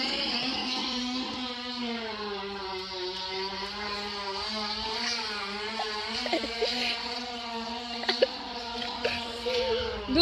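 A plastic bottle flapping against the spokes of a turning bicycle wheel, rigged to mimic a motorcycle, gives a steady buzzing drone with a rising and falling pitch that runs the whole time, near and fairly loud.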